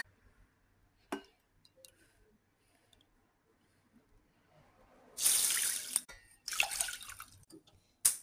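Tap water runs into a cooking pot while barley and rice are prepared on the stove, with two bursts of steady splashing flow after quiet kitchen clicks and a brief knock, heard close without talk.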